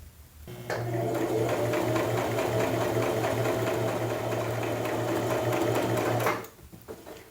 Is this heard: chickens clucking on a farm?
no